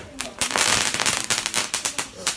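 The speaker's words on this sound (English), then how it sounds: "I put fireworks in a flower bed." Fireworks set off in a flower bed crackle and pop in a loud, rapid, irregular burst of sharp bangs, close by, lasting a couple of seconds.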